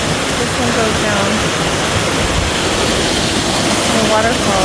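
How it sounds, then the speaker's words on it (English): Waterfall at Fifth Water Hot Springs in Utah, a steady close rush of falling water filling the whole clip. "There's the waterfall."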